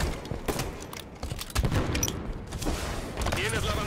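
Gunfire crackles in a shooter video game match, with bursts of shots and a thump from a thrown grenade under excited player voices, moderately loud and repeated throughout.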